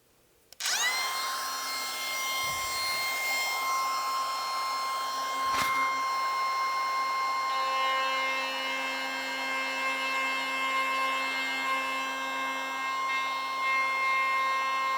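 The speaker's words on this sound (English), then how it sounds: "I've also set the depth on a small little 1/4 inch spiral bit, and I'm going to hog the bulk of this out" A router with a 1/4 inch spiral bit spins up and hogs out wood, a loud, steady high-pitched whine that runs continuously for about fourteen seconds with a brief change partway through.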